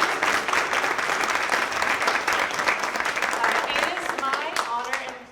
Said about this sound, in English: We'll give one more round of applause to the amazing artists who won their awards tonight.